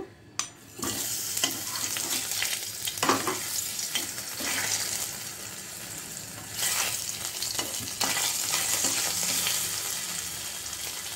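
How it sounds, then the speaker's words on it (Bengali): Bay leaf and a little cumin sizzle in hot oil, a continuous crackling frying hiss with occasional stirring scrapes and pan clinks, fairly close. "তেল গরম হলে তেজপাতা আর অল্প একটু জিরে দিয়ে দিলাম, এটা গরম হোক।"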